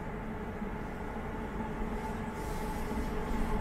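A London Underground Jubilee Line train running between stations near West Hampstead, a steady low rumble with a constant tonal whine heard from inside the carriage, no voices.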